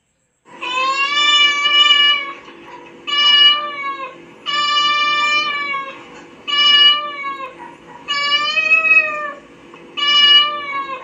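Recorded cat meowing from an Alexa smart speaker: six loud, drawn-out meows, evenly spaced with brief silent gaps.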